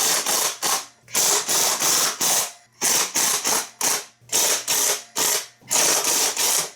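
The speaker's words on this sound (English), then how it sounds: "with a 14mm socket, I'm going to be removing these head bolts using my pneumatic impact here." Pneumatic impact wrench with a 14mm socket loosening cylinder head bolts on a Kawasaki FC540V engine, heard as repeated loud, close hammering bursts of about half a second each separated by brief pauses, with no talking.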